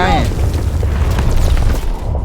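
A fuel barrel blows up in Call of Duty WWII: a loud, deep boom and rumbling roar that fills the whole short moment, with excited voices talking over it.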